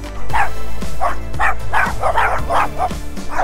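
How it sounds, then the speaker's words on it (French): Several dogs bark aggressively in loud, rapid bursts at a border crossing between Alsace and Lorraine, the yaps overlapping with no talk. "C'est des chiens très méchants."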